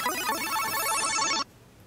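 A telephone rings with an incoming call, a bright electronic ring tone lasting over a second before cutting off to quiet.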